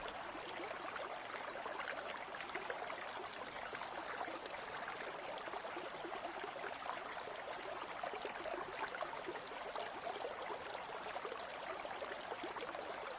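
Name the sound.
river stream flowing by the riverside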